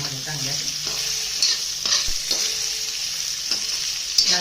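Dried bombil fish fry in oil over a medium flame, a steady soft sizzle punctuated by occasional scraping stirs and clinks, close and without talk.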